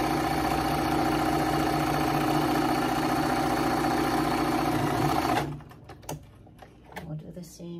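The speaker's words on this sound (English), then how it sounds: "So we'll sew it just below here, about a quarter inch" A sewing machine runs steadily for about five seconds, stitching a quarter-inch seam through fabric and lining for a wheelchair pocket bag, then stops, leaving a few mechanical clicks and handling noises; a voice talks over it.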